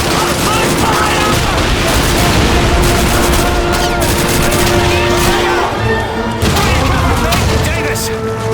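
Sustained gunfire in the World War II shooter Call of Duty 2, with rifle and machine-gun bursts and booming blasts layered into a loud, constant battle roar close by, and soldiers yelling through it.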